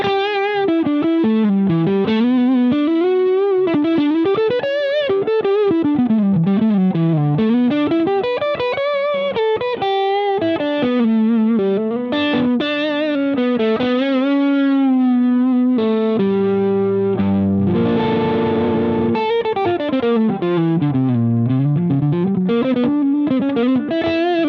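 Electric guitar driven through a Jackson Audio Asabi overdrive pedal with the noise gate off, playing flowing melodic lines and arpeggios, then a dense strummed chordal passage near the end, with a warm, gritty overdriven tone, loud and without talk.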